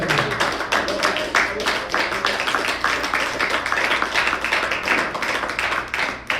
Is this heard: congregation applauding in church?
yes